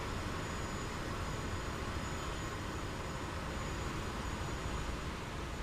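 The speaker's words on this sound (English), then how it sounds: "Plane audio is pretty loud over your mic." A steady airplane engine drone from a VR flight game set over the Alps runs continuously and evenly, loud and unbroken, with no talking.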